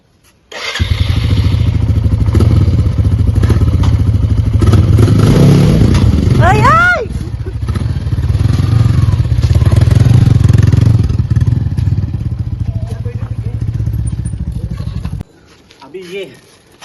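A motorcycle engine runs steadily and fairly loud for about fifteen seconds at a music festival in Ziro, with a brief rising rev midway and clattering handling noise, then cuts off near the end.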